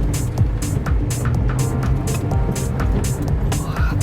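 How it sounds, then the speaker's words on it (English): A car engine labours up a steep hill on a windy road on Mykonos, a steady low rumble with broadband wind buffeting over it, close and continuous throughout. "But this car is struggling to get up these hills though."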